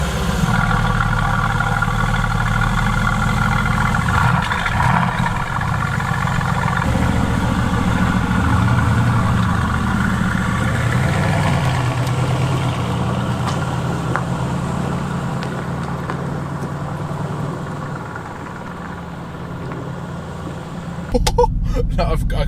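A brand-new car's engine hums at a low, steady idle from inside the cabin, mostly beneath continuous talking, with the rumble shifting slightly partway through.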